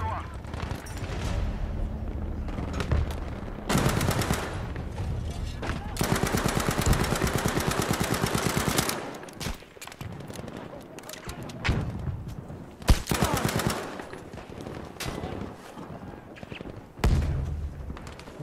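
Gunfire in the video game Battlefield V during a Conquest match on Narvik: repeated bursts of automatic fire and heavy shots, loud and close, with a long sustained burst mid-clip, sharp bangs later and people talking over the action.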